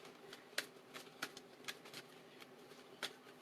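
Tarot cards flipped one after another during a card reading, producing a series of soft, crisp snaps and flicks at irregular intervals, close by and fairly quiet, with no talking.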